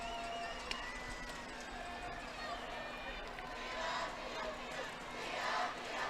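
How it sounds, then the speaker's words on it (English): Crowd at a state tournament fast-pitch softball game cheering and calling out to fire up the girls' team, a steady distant wash of voices with a steady hum underneath. "Lindsay Crowd trying to fire the girls up here."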